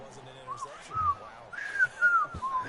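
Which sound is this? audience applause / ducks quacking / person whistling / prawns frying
person whistling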